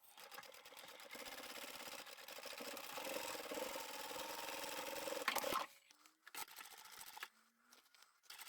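A sewing machine stitches a seam in plasticky upholstery fabric for a boxy bag, running in one steady continuous whir for about five seconds before stopping abruptly, followed by faint handling clicks and quiet rustling.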